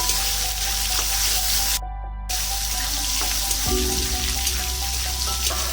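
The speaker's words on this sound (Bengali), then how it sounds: "মাছগুলো হালকা ভাজবো, বেশি ভাজবো না।" Fish slide into hot oil for a light fry, giving a loud, steady close sizzle with a brief cut-out partway through and a lower bubbling hiss toward the end, with no voices.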